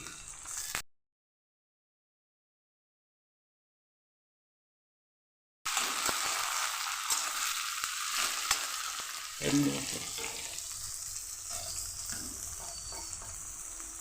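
Chopped tomato hits browned onions in a pan for ghugni. After a brief cut to silence, a steady, close frying sizzle runs on, with one louder clunk partway through.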